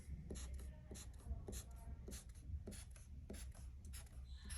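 Pen or marker drawing short dashed lines across paper for a city street, a series of quick scratchy strokes in steady rhythm, close up over quiet room noise.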